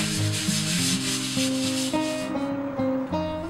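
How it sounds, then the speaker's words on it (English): Sandpaper rubs over a carved, chalk-painted wooden door, a steady scratchy hiss running continuously beneath prominent background music. "Then I carefully sanded all over again to define the pattern I carved."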